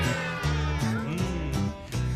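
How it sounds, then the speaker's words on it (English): A few drawn-out meows sound over music during a live radio singalong of the song The Cat Came Back, close and fairly loud in a brief rising and falling sequence. "Give me a meow, go."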